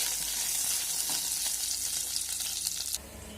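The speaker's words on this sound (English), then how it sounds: "I have taken about 1 teaspoon jeera. Let it splutter." Cumin seeds spluttering in hot melted butter in a pan, a steady close crackling sizzle with fine pops throughout, easing slightly near the end.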